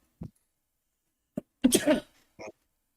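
A single sharp sneeze bursts out close and loud, preceded by a couple of brief sniffs and a short breathy sound after, with silence between.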